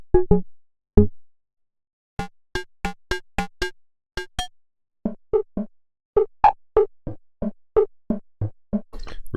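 Plogue Chipsynth C64 drum preset playing short, punchy 8-bit percussion hits, clipped kicks and buzzy snares in an uneven, sequenced rhythm with brief gaps, dry and close.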